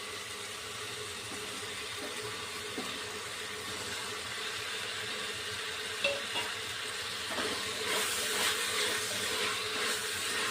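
Fried potato pieces sautéing in hot oil for corn pulao, a steady low sizzle with occasional stirring scrapes and clinks, close by and moderately loud, with no one speaking.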